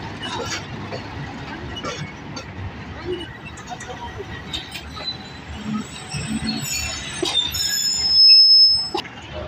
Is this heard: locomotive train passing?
yes